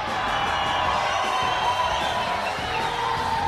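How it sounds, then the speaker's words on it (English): A wrestling crowd cheers and roars for a wrestler's entrance, a dense, steady wall of noise from a packed audience that stays loud throughout. "And you can hear the crowd responding."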